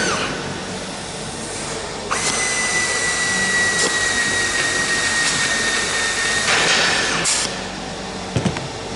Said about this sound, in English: Really is a handy tool, that, isn't it, that compressor?